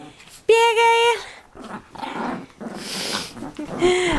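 Small dogs growling and whimpering in play at home, a sharp yelp-like whine early on followed by rough, rumbling growls, with a voice speaking over parts of it.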